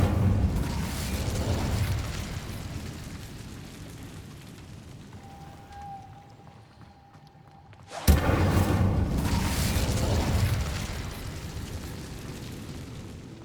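A fire spell is cast in Hogwarts Legacy, first a thin steady tone and then a sudden loud whooshing burst that roars on for several seconds and slowly fades.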